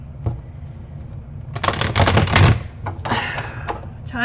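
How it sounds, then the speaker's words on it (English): Playing cards being shuffled up close, a couple of quick riffling bursts with crisp flutters and snaps in between. "I can talk about each one of these while I'm shuffling maybe"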